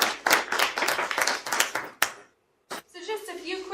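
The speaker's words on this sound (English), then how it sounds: "can we give our facilitators and supporters here today a round of applause?" Scattered clapping from a small meeting audience thanking facilitators, several sharp bursts of hand claps that stop abruptly, followed by a pause and then someone begins talking.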